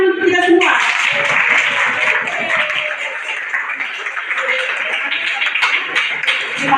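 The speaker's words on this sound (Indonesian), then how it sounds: "Oke, tepuk tangan dulu untuk kita semua." A class applauding outdoors in hot sun, dense group clapping that fills the whole stretch at a steady level, with a short spoken phrase at the very start.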